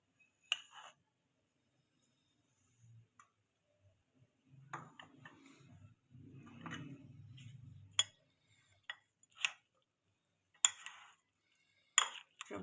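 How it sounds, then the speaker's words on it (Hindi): A spoon stirs cream into a bowl of fruit chaat, giving a series of soft, close clinks and taps against the bowl with gentle scraping and squelching in between, spread over several seconds with no talking. "चम्मच की मदद से इसको अच्छी तरह से मिक्स कर ले"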